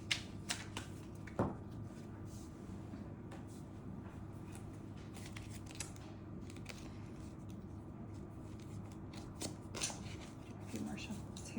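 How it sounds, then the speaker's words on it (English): Tarot cards are shuffled in soft, repeated riffling bursts over a steady low background hum, fairly close and quiet, with occasional light taps. "A few more shuffles here. It's too many cards."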